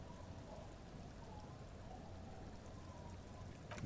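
Steady rain falling in the video game Disco Elysium, a soft continuous patter and hiss at low level, alone without speech.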